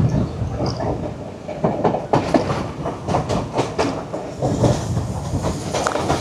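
A train creeping at about 20 km/h along the seaside line between Colombo and Galle, Sri Lanka, with rhythmic clattering wheel beats and rumble heard close from aboard.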